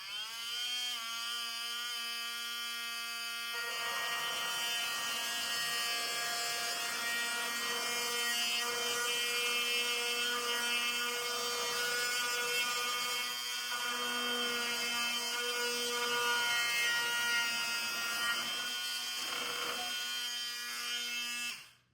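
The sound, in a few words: multi-tool cutting a wood strip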